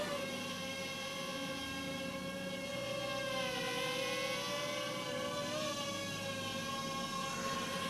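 A small Ryze Tello quadcopter drone hums steadily outdoors, its propeller whine shifting in pitch as it turns and descends to land on grass, continuous and fairly close with no talk.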